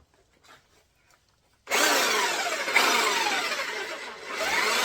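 After a short quiet stretch with faint handling, a power tool suddenly starts cutting into wood, a loud, harsh, sustained grinding buzz that continues to the end.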